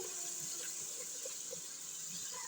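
Water is poured into a cooking pot of chana dal with bitter gourd, a faint, steady hissing splash with small bubbling gurgles throughout.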